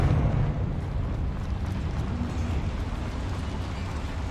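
Confringo fire spell explosion in the video game Hogwarts Legacy, heard as a dense, steady roaring rumble that holds at an even loudness from start to finish with no single sharp burst.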